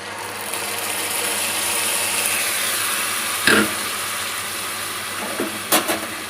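Steady broadband sizzle of spiny gourd frying in hot oil tempered with nigella seeds and dried red chillies, continuous throughout, with a couple of brief utensil clinks near the end.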